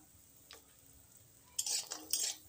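Bori lentil dumplings fry in hot oil in a kadai, opening with faint clinks before a burst of loud bubbling sizzle with scraping of a utensil.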